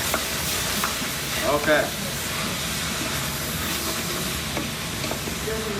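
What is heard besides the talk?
tomatoes sizzling and deglazing a hot pan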